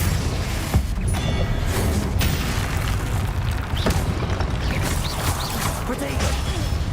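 A Confringo fire spell explodes in the video game Hogwarts Legacy, giving loud, dense booms and crashes that run continuously through the combat with no pauses.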